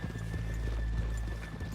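Horse hooves clip-clop steadily and close by in the Western video game Red Dead Redemption 2, a brisk unbroken rhythm with a faint whinny or two in the background.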